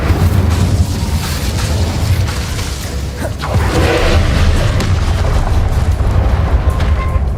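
Confringo blasting spell going off in Hogwarts Legacy, a loud, continuous booming roar with whooshing bursts that stays dense and heavy throughout, with no pauses.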